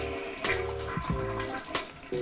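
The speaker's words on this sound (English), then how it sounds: "And go ahead and flush." A toilet flushes just after a clog has been cleared with a plunger and auger, giving a steady rushing swirl of water with gurgles and a few sharper splashes over about two seconds.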